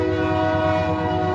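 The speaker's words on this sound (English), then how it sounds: "Sorry about the train." A passing train sounds a loud, sustained horn, a steady droning blast that sits up close and holds level throughout, with no voices.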